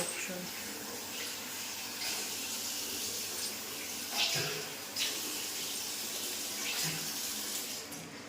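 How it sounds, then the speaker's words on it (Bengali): Tap water runs steadily in a hotel room sink while hands are washed, a continuous close splashing hiss with a few louder splashes, and a voice speaks softly in the background. "এটা হাতটা ধুয়ে নাও তত।"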